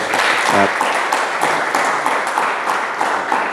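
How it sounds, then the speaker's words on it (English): Applause from the room for Dr. Eric at a youth democracy panel discussion, a dense steady clatter of many hands through the whole stretch, fairly loud and close, with a brief voice near the start. "Let's give him a round of applause."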